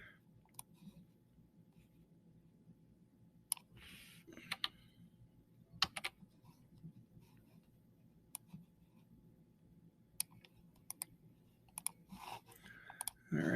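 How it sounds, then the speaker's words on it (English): A computer mouse gives sparse, sharp, faint clicks scattered irregularly across a quiet room, with no talking. "I'm just right clicking"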